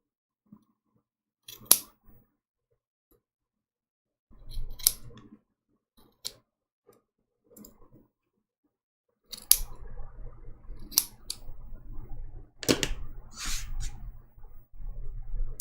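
Scissors snip fabric close to the corners of a small 7-inch ladybug appliqué quilt block, giving scattered crisp cuts nearby, with quiet gaps early and denser rustling snips toward the end, and no talking.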